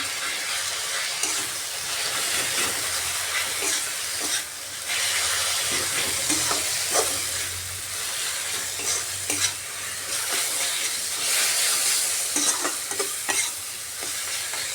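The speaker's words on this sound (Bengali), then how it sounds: "এখন গ্যাসের আঁচটা মিডিয়ামে করে মশলাটাকে একটু সময় নিয়ে কষাতে হবে" Spices and green chillies fry and sizzle in hot oil in a pan while being stirred for a Bengali rui fish head kata chorchori, a steady bright crackle broken by scraping stirs, with no voices.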